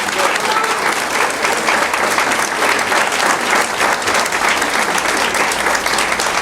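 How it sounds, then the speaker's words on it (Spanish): An audience at a Cuban health gathering gives loud, sustained applause, a dense continuous roar of clapping from the crowd with no pauses, filling the whole stretch. "Fuertes aplausos."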